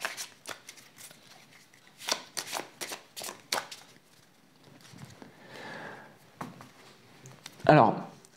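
A deck of about forty playing cards is riffled and shuffled during a close-up mentalism card routine, producing bursts of crisp flicking and rustling with short pauses, ending in a brief louder riffle.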